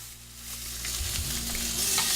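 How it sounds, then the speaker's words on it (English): Steaks hit a hot cast iron skillet and start searing, a bright hissing sizzle that swells louder and fills the air, with faint scraping as the meat settles in the pan. "You should really hear the pan sizzle when you place the steaks down for a nice sear."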